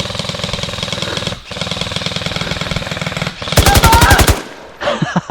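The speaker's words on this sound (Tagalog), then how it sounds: "Barilin na lang natin ito." Airsoft guns fire outdoors on a woodland trail field, a steady stream of rapid automatic shots running for several seconds, then a brief pause and a louder, sharper burst up close, followed by a few scattered shots.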